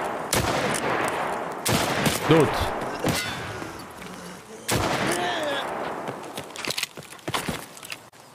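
Gunfire in the shooter game Escape From Tarkov: several loud, sharp shots spread irregularly, with clanks and footsteps between them and faint game sounds underneath.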